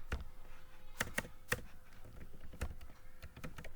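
Fingers tap a computer keyboard while entering data into accounting software, a quiet, irregular patter of single keystrokes with a few sharper, louder presses.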